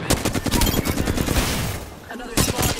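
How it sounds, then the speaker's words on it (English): Rapid bursts of gunfire in the video game Apex Legends, dense overlapping shots that drop off briefly and then resume, loud and close with a busy game mix behind. "Another squad is on shooting."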